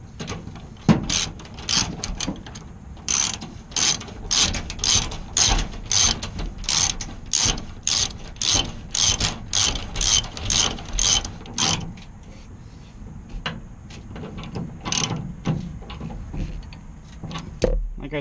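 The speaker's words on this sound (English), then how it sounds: "I'm going to speed this up a little bit with the ratchet." Ratchet snugging sway bar bolts on a Toyota Tundra, a close, rapid series of sharp clicking strokes in rhythmic bursts, thinning out toward the end.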